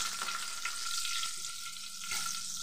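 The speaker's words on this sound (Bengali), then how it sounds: "2 সেকেন্ড সময় ধরে ফোড়নটাকে ভালো করে ভেজে নেব" Whole tempering spices frying in hot oil for Bengali bhoger khichuri, a steady close sizzle and crackle with faint stirring, no talk.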